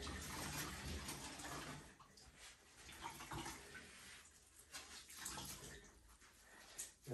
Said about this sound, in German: Das ist nur Wasser mit Spülmittel.